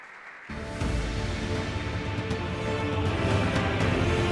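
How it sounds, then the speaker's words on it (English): An audience at an alumni awards ceremony breaks into sustained applause welcoming a speaker on stage. The clapping starts abruptly after a brief quiet moment, then builds into a dense, even roar of many hands that continues throughout. "with a huge round of applause, we welcome on stage Mr."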